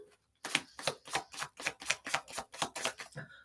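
A tarot card deck shuffled in a steady rhythm, about ten evenly spaced, crisp riffling strokes, close and clear with no talking.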